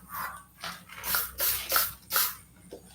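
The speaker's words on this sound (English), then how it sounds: "I'm gonna spray this side with the Lysol." A few short hissing bursts of Lysol disinfectant aerosol spray, close by, in quick succession with brief pauses between them.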